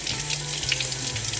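Warm tap water runs steadily into a sink while vinyl is peeled off mugs, a close, continuous splashing stream with no talking.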